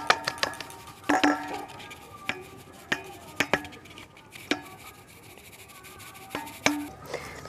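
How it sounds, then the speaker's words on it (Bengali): A spoon stirs eggless cake batter mixed with baking powder, baking soda and a pinch of salt in a bowl, giving sparse, irregular clinks and taps against the side. "ভালো করে মিশিয়ে নিচ্ছি।"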